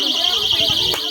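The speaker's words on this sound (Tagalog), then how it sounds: "Yan yung alarm muna, pa-alarm mo para" A buzzer-style alarm sounded to call for attention at a church gathering before the closing prayer, a steady high tone held loud throughout, with brief voices and bumps beneath it.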